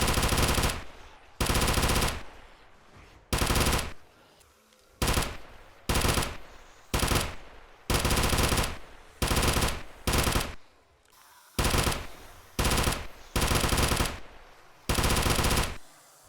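Automatic gunfire in the zombie survival video game 7 Days To Die, loud repeated bursts of rapid shots separated by brief pauses, close and dominant with no talking.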